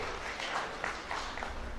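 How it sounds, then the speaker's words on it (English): Guests applaud Mr. and Mrs. Eddie Kwame at a celebration of life, a soft, scattered patter of clapping from a modest crowd, fairly distant and continuous for a moment. "Giving them a big round of applause"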